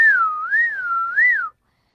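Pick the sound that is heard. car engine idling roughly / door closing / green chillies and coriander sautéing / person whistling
person whistling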